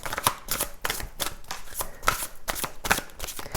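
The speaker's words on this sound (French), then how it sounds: "On va prendre 3 cartes." Tarot cards are shuffled by hand in a rapid rhythmic series of close, crisp riffling bursts with short gaps between them, loud and alone without talk.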